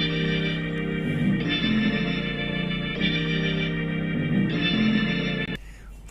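Beat with a synth melody and bass line playing together, a steady looping pattern of sustained chords repeating in two-bar phrases, loud and alone before cutting off near the end.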